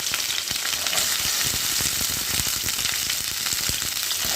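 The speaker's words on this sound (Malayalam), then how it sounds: "നമുക്ക് കുറച്ച് ഓയിൽ ഒഴിച്ച് കൊടുക്കണം ഇത് ഫ്രൈ ചെയ്തെടുക്കാൻ വേണ്ടിയിട്ടാണ്" Okra crackles and sizzles continuously in hot oil, a loud, close frying hiss with frequent small pops throughout.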